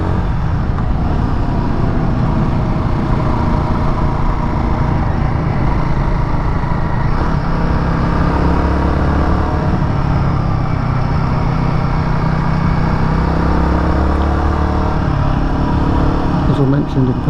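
A Royal Enfield Guerrilla 450 motorcycle riding at speed on a road, a loud constant engine drone layered with wind rush and road noise throughout, with a rider talking over it.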